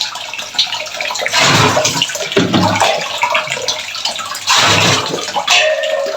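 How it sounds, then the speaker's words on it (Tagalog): Water pours and splashes into a washing machine tub at home in loud, steady bursts, easing off briefly between pours. "Maglagay ng tubig dito sa washing machine"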